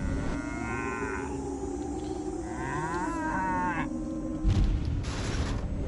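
A cow moos in the Destroy All Humans video game, a long, loud, wavering low call over a steady game background, ending in a louder burst.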